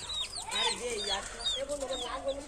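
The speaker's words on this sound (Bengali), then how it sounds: "আমাদের এই দুটো মুরগি আছে আমাদের বাড়িতে" Hens cluck in a run of short, throaty calls close by, mixed with a few higher squawks, steady and fairly loud.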